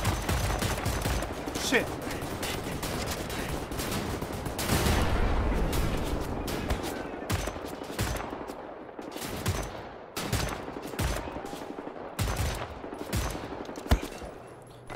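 Rapid, loud gunfire from a heavy-recoil weapon in Wolfenstein: The New Order, bursts repeating across the span with short gaps, while a man swears briefly over it.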